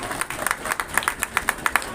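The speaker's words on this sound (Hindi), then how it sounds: "जोरदार तालियां" Sparse claps and short bursts of clapping from an audience at an award ceremony honoring students of a computer institute, irregular hand claps over a background murmur.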